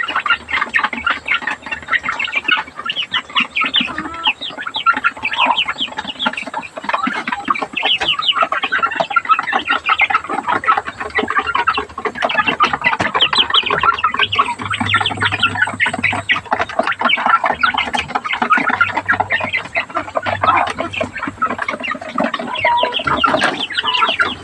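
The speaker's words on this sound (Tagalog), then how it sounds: "Kain tayo ng ating upgraded native chicken, guys." Two-month-old upgraded native chickens cluck and chatter continuously at close range, a dense flock of overlapping clucks with no talking.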